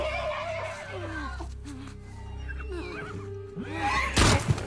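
A horse in The Last of Us Part II gives wavering, pitch-sliding whinnies and snorts amid quiet game ambience, followed by a sudden loud burst near the end.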